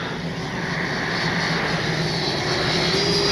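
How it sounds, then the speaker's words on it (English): A Freewing F9F Cougar RC model jet flies overhead with a steady, loud whooshing, whining drone that builds slightly, with no voices heard. "What a beautiful flying jet."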